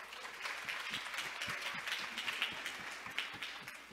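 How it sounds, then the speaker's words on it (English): A conference panel audience claps steadily, a dense patter of many hands at moderate volume that continues without a break. "Round of applause for Dr."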